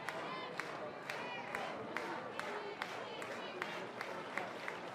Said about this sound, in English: Crowd urging on.